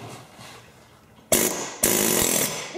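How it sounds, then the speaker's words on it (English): Two loud bursts of a pneumatic air hammer driven against a rusty pulley shaft bolt, each starting abruptly and rattling on close by after a faint quieter lead-in. "get your air hammer. Put it on that bolt or the center of the shaft"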